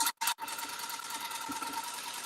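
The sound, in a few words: rug tufting gun running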